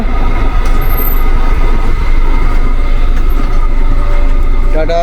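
The Kalka–Shimla toy train in Himachal Pradesh rumbles steadily close by, with a constant low roar of wheels on rails and faint squeals near the end.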